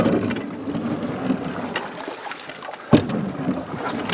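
Paddles dip and push a boat through a pond in a steady rhythm, with soft splashes, wind buffeting the microphone, and a sharper knock partway through.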